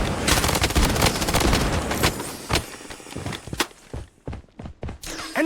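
Video game gunfire in a shooter match, a dense rapid burst of close automatic shots at first, thinning into scattered single cracks and thuds toward the end.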